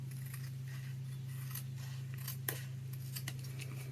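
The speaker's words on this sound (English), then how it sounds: "And get all the full washi tape stuck to my scissors." Scissors snip through washi tape in a string of short, crisp cuts, quiet and close, over a steady low hum.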